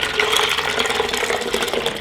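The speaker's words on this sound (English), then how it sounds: "I'm going to add hot water right to that." Hot water pours steadily into a bucket of soapy water, a continuous near splashing and gushing rush filling the whole moment with no talk.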